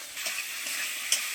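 Potatoes and pointed gourd stir-fried in spice paste, a soft continuous sizzle broken by a few light spatula scrapes and taps, close and alone.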